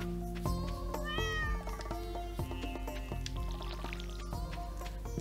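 A cat in the video game Stardew Valley on Switch lets out clear meows over steady, tinkling in-game music.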